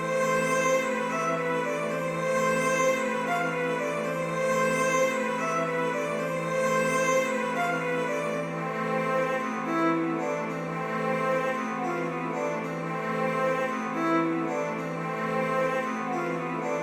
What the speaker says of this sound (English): So all the violin sounds in the intro,